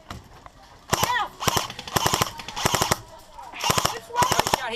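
Airsoft guns fire in rapid automatic bursts during an outdoor airsoft game in Switzerland, with several close, sharp rattling volleys in quick succession and voices talking in between.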